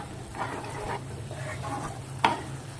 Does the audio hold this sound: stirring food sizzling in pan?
yes